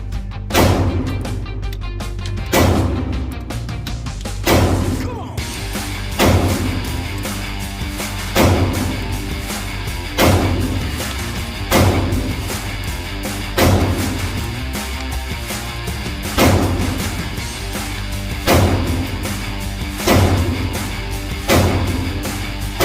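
A pistol fires target ammunition from a Shield Arms S15 magazine, about a dozen sharp, loud shots at an uneven, steady pace, each ringing out briefly, with a faster burst at the start.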